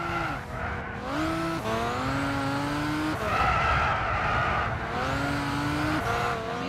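Race car from the Gran Turismo 6 video game, engine revving loud and steady with harmonic whine rising and falling through gear changes, tires squealing as the rear slides out, continuous with no talk.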